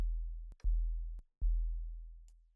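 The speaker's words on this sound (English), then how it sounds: "If you want to make an actual 808, then it's just a sine wave" Pure synthesizer sine-wave tone used as an 808 bass, sounding as three sustained low notes that each decay slowly, separated by brief gaps and sharp attack clicks, with no voices.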